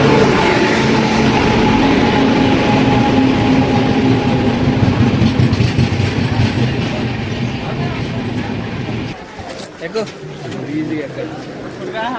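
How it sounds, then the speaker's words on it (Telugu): A passenger train pulling into Khammam railway station, with a loud, sustained rumble and rolling wheel noise that eases toward the end as it slows, with people talking nearby. "ట్రైన్ వచ్చింది ఎగ్జాక్ట్గా 9:15కి వచ్చింది."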